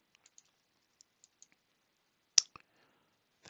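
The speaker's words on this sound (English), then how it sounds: "And I'll click OK." Sharp computer mouse clicks in a quiet room: a few faint, scattered ticks followed by one louder, crisp click and a quick second click, then another click at the very end.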